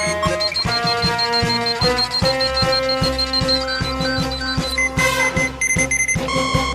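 A Dragon Ball scouter detector beeps in a rapid string of bright electronic tones, loud and close over a steady, music-like backdrop.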